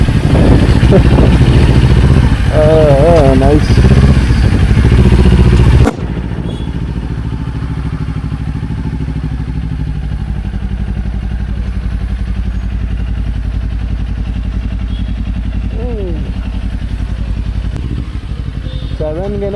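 A touring motorcycle on a long road trip across India starts up and settles into a steady, loud idle that continues throughout, with people talking over it.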